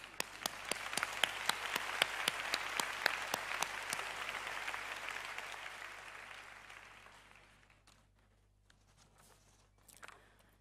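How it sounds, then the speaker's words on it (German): An audience at a conference applauds in a hall, a sharp, rhythmic clapping from nearby hands over a dense wash of clapping that thins and fades out, leaving a few scattered sounds. "möchte einen großen Applaus aussprechen"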